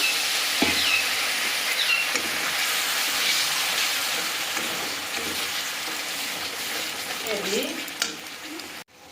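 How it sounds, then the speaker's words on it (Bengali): Masala with a little coconut milk fries in a pan for a prawn malai curry, giving a steady close hiss and sizzle with occasional stirring clinks and scrapes. "তো মশলাতে অল্প নারকেলের দুধ দিয়ে দিলাম দিয়ে আর একটু মশলাটাকে খুব ভালোভাবে আরও কষিয়ে নেবো আমরা"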